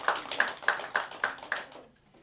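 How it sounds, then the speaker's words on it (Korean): A church congregation claps together, about six to eight rhythmic beats in quick succession that fade out after a couple of seconds, with no talking. "동의하시면 박수 한번 해주실래요?"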